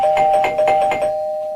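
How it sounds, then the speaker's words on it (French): Doorbell rings in a repeated ding-dong chime pattern across the first second, loud and close, then a sustained tone fades out alone with no talking. "J'adore le bruit de cette sonnette."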